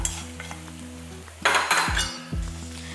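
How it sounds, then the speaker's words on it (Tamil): Hot tempering oil poured into a chilli onion chutney hits with a sudden loud burst of crackling sizzle, set against a low steady hum, with a couple of metallic clinks from the pan and spoon. "இப்போ இந்த சட்னியில் இந்த எண்ணெயெல்லாம் ஊற்றிடலாம்"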